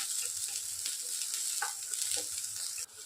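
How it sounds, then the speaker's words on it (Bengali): Vegetables for poha fry in a pan with a steady, close sizzle and crackle, broken by a few light scrapes of stirring, with no voices. "সবজিগুলো ভাজা প্রায় হয়েই এসেছে"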